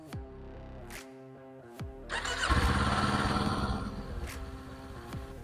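A motorcycle engine cranks and catches, then settles into a steady idle rumble, close and fairly loud, after a few tonal beeps.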